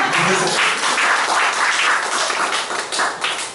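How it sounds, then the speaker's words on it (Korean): Applause from a church Bible class group, a steady burst of many hands clapping close by that holds for a few seconds and then tapers off, with no talking over it. "박수 한번 하십시오"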